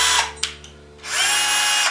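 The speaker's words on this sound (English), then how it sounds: "It's exactly like my other Bosch drill, and you have the speed control." Bosch GSR 12V-15 cordless drill running loudly and close with a high whine, briefly easing off near the middle and then spinning back up to full speed, with no voices.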